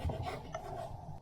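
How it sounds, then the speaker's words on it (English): A knife cuts food into little squares on a wooden board, giving steady rasping, scraping strokes that run close and fairly quiet with no talking. "You just need to cut these into little squares."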